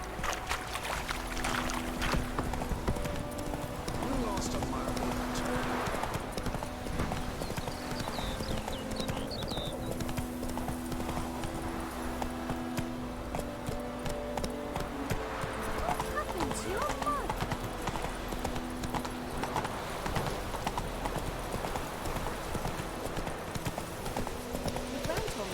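Horse hooves clip-clop in a steady rhythm through the Witcher 3 video game, mixed with game music and ambient sounds while a person talks over it.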